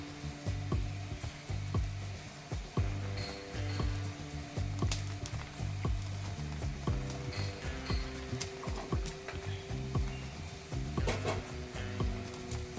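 Dried coconut roasting in a pan, a soft scraping and rustling as it is stirred, with light intermittent taps of a utensil against the pan and a steady background hum.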